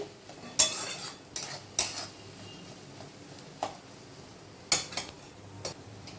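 A spoon scrapes and knocks against a pan as fish curry with garam masala is stirred, giving several sharp metallic clinks spread across a quiet, faint background.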